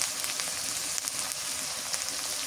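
Pangas fish fries in a pan with a paste of ginger, garlic, onion and cumin plus turmeric and green chili, giving a constant, close, crackling sizzle that sounds like rain with no pauses.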